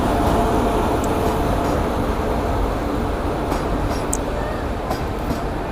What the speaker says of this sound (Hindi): ये ऑन टाइम है ट्रेन